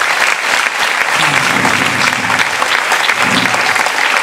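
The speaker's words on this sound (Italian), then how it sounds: "Grandissimo applauso per Riccardo e la nostra Miriam." Loud, dense applause from a theatre audience after a show, close and continuous, with faint voices murmuring underneath.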